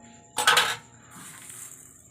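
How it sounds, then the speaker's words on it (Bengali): Sugar poured from a container into cooked pineapple chutney, a brief bright grainy rattle lasting under half a second, followed by a soft fading hiss. "এবারে আমি এতে চিনিটা দিয়ে দেব।"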